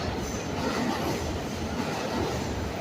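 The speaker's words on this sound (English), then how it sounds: "Oh, train's coming." A subway train arriving at Times Square station in New York rumbles loudly and steadily nearby, a continuous rolling roar of wheels on track with no speech.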